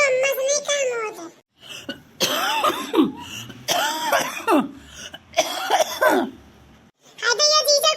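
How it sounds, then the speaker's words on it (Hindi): A man coughs repeatedly in close, harsh bursts that alternate with raised speech from another person, making the coughing and talking overlap across the stretch. "हाय भैया जीजा, कितनी खांसी आ रही"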